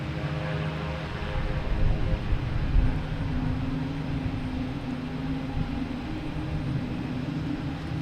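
A JetBlue Airbus A220 arriving at Boston Logan gives a moderate, steady engine roar that swells briefly and then holds at a consistent level, heard from a distance with no talk.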